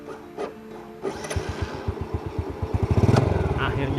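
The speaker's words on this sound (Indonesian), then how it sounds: "Akhirnya menyala juga motor berusia hampir 30 tahun ini" A nearly 30-year-old motorcycle engine cranks and catches, its putter quickening into a rapid, rising rhythm, close by outdoors near a cornfield.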